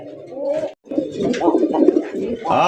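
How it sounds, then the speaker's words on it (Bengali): Large king pigeons coo nearby in deep, rolling, repeated calls that continue almost without pause. "মামা এটা কি কিং কবুতর নাকি মামা এত বড়"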